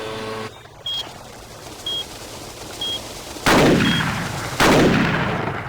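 Rapid video game gunfire from Cabela's Alaskan Adventures in a sharpshooting challenge, loud shots in quick bursts with short electronic beeps between them, and no talking.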